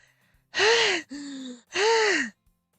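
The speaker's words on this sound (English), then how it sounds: "The sound of heavy breathing comes through the door." Three heavy, voiced breaths in a row from a video game, Doki Doki mod, gasping in and out, close and loud, with silence around them.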